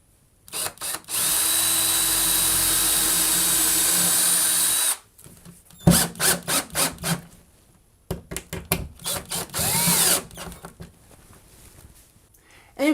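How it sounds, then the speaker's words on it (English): A power drill bores screw holes into a wall for mounting brackets in a photo studio setup: a long steady whine, then a run of short trigger pulses, and another sustained drilling burst, close and loud. "and then you can drill them out"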